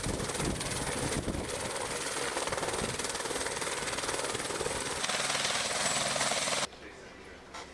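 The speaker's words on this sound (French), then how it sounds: "Azur Hélicoptère, compagnie leader sur le marché français, se charge des transports VIP aériens durant le festival." Azur Hélicoptère VIP transport helicopter flying over the Côte d'Azur during the Cannes Film Festival, a loud, steady, close rotor chop and engine roar that runs without a break and then drops off sharply near the end.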